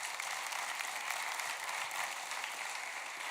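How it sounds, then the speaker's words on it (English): A crowd at a live-streamed company event, Factbird Forward 2024, applauds the marketing team. The dense clapping is steady and sustained throughout, with no talk over it. "could we please get a big round of applause for the marketing team who made this possible?"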